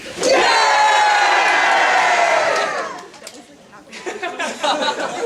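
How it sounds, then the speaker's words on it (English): A convention panel audience lets out a long, loud collective "yay" cheer that holds for a few seconds, then fades into scattered crowd chatter and murmuring. "Say I'm gonna do 1, 2, 3, and you just all go, yay!"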